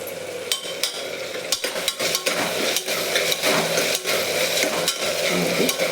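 Onion, potato, beans, chilli and tomato stirred in a sizzling pan, a steady frying hiss broken by repeated scraping and tapping of the spoon against the pan.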